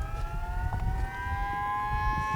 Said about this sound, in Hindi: सायरन बजा, ब्लास्टिंग हो गया है।